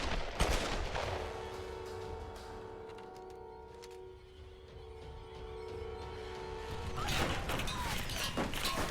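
Gunfire in the video game Tomb Raider, with bursts of rapid shots at the start and again near the end and a steady mechanical hum between them.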